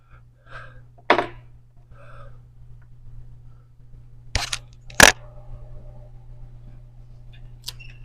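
Handgun shots at an outdoor range target, a few sharp, widely spaced cracks over a steady low hum, with the loudest pair close together near the middle.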